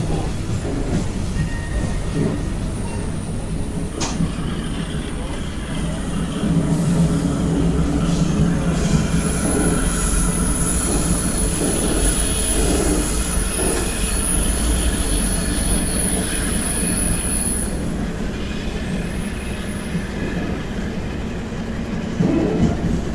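A simulated train pulls into Desembargador Drummond station in the Open Rails game, a continuous loud rumble of wheels on rails with squealing and clicking over the track, steady throughout with a faint high whine.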